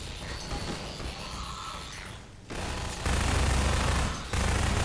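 Rapid automatic gunfire from the Half-Life 2 video game rattles in sustained bursts, briefly dropping away before heavier, louder volleys resume with booming low impacts.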